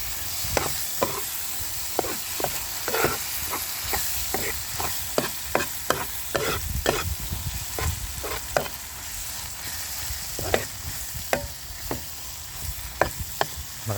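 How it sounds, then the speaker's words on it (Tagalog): Tomato being mashed and fried with garlic and onion in a pan for eggs, with repeated scraping and pressing strokes over a continuous close sizzle. "Nilulusak ko lang yung kamatis para mas masarap."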